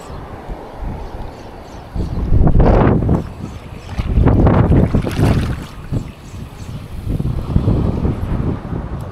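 Strong gusts of wind buffet a small fishing boat at sea, roaring in loud surges over rushing water and waves, with no talk.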